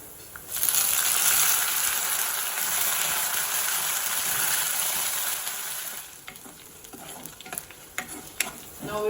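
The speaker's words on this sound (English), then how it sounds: "Now we'll add curry leaf." Curry leaves crackle and sizzle loudly in hot oil with browned chopped onions for a rasam tempering, a dense steady hiss that drops after about six seconds into scattered pops and stirring scrapes.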